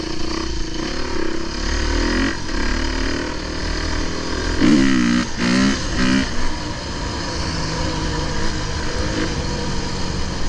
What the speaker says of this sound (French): le 4 temps, du coup, avec le frein moteur, voilà, tu vois, je baisse de rapport, je fais un peu du frein histoire de compléter